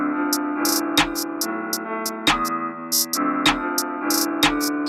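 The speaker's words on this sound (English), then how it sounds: "if you hear that played with the rest of the beat should sound like this" Full UK drill beat with crisp, rapid hi-hat rolls and stutters over sliding 808 bass, melodic chords and hard kicks and snares, played loud and continuous with no talking.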